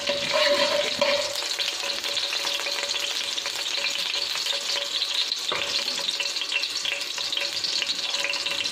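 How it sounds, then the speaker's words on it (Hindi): White cumin seeds sizzling in hot oil in a kadai, with a loud, close, continuous frying hiss and crackle and some stirring, with no voices. "ऑयल गर्म हो गया, अब इसमें सफ़ेद साबित ज़ीरा डाल देते हैं।"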